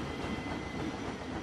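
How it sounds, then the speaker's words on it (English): A train runs in the video game Planet Coaster, a continuous rumbling clatter of wheels on rails that stays loud and even for the whole moment, with no talking. "The train sounds so happy"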